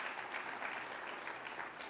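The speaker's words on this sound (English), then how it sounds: "Oh yeah, sure, that's a clap." Faint, distant applause from an audience at a national education announcement event, a steady patter of clapping with no voices over it.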